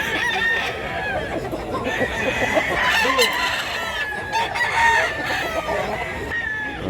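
A rooster crows repeatedly amid a noisy farmyard in Mantalungon, Cebu, with other fowl clucking and calling all around, fairly close and loud.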